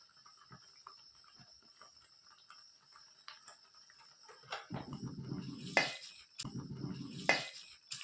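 Crushed garlic tempering is stirred into a pot of curry, giving two bursts of scraping and sizzling near the end after quiet clinks and small clicks, with no talking.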